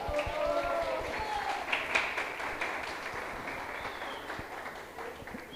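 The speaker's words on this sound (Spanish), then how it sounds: "Un fuerte aplauso para Yocabet" Audience at a Spanish-language panel discussion on finances applauds a panelist being introduced, moderately loud clapping that gradually fades, with some voices faintly mixed in.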